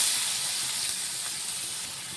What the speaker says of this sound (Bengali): পেঁয়াজটাকে বেশ হালকা লাল করে আমরা ঠিক ভেজে নেব